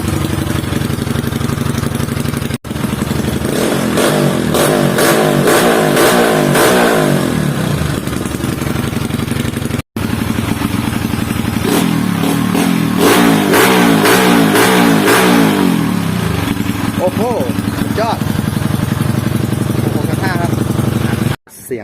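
Fuel-injected Honda Wave 125i motorcycle engine revving repeatedly up and down from idle, loud and close, with several rising and falling bursts over a steady running drone.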